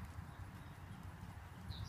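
Horse hooves clip-clop in a faint, steady rhythm during a riding lesson, with a soft low thudding that carries on throughout without any voice.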